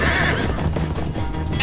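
A horse in the Minecraft Story Mode video game lets out a loud, close whinny, and hoof clip-clops follow under the game's background noise.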